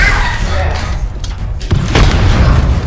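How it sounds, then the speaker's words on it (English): A grenade blast in the battle royale game Apex Legends, a deep booming thud around the midpoint set in continuous loud game noise, with players talking over it. "Did you throw that grenade?"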